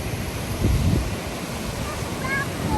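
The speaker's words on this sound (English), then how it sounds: "There's some rapids, huh?" River rapids give a broad, steady rushing wash outdoors in Columbus, Georgia, with light wind buffeting the microphone and a faint bird chirp near the end.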